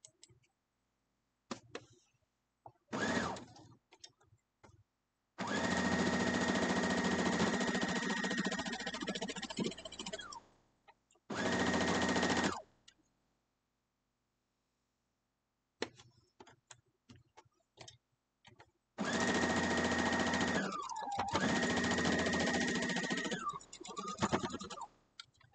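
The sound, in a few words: sewing machine stitching quilt block pieces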